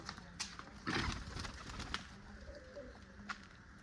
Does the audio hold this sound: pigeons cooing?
yes